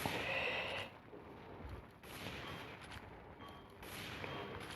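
Sniper gunshots in a video game: booming shots with rumbling tails, each followed by a short quieter gap, spaced about a second apart at moderate loudness, with no one talking.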